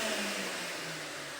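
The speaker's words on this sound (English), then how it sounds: "So just vacuum clean the power supply." Vacuum cleaner running steadily while cleaning the power supply of a PS4 CUH-1215A console during an internal cleanup, a continuous close whine and hiss with a faint motor hum, no talking.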